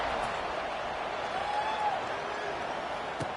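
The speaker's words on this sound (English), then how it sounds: "this crowd is buzzing after that last score" Steady crowd murmur fills a football stadium after a score in an Oregon State versus Boise State game, a broad continuous buzz at moderate level with a faint whistle-like tone rising and falling midway.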